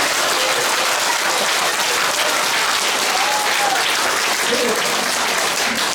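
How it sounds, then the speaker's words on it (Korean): An audience at a political lecture in Daejeon, South Korea, breaks into loud, dense applause that holds steady throughout, with a faint murmur of voices beneath the clapping. "저분들 위해서 박수 부탁드립니다"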